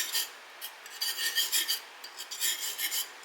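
Metal whisk scraping and swishing rhythmically through gravy in a pan, a bright raspy sound repeating in quick strokes, close and alone.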